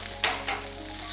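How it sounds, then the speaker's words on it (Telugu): Seeds and green chillies frying in a pan for chutney make a soft, faint sizzle with a couple of small crackles popping over it. "జస్ట్ వేయిస్తున్నాం"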